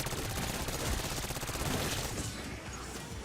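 Rapid submachine gun fire in Black Ops 6 Zombies, a dense, continuous stream of loud close shots with no pause, trailing off slightly near the end.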